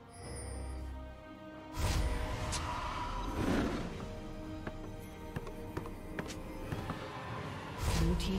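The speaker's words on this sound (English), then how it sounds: "Blue team's turret has been destroyed" A turret being destroyed in League of Legends, with a sharp impact and bursting crackle around two seconds in, followed by scattered thuds, taps and whooshes of ongoing combat, fairly quiet overall.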